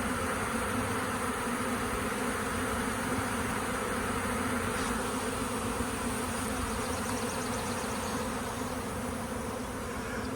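A honey bee swarm fills the air with a dense, constant buzzing drone, loud and close, with no pauses.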